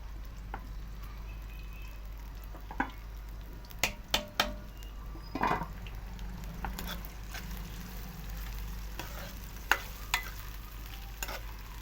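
Onions fry in ghee in a kadhai, a soft, low sizzle running throughout, broken by a handful of scattered clinks and scrapes of stirring. No one speaks.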